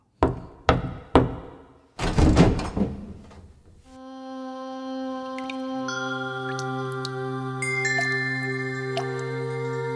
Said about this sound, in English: He walked up to Draupadi's room and knocked on the door.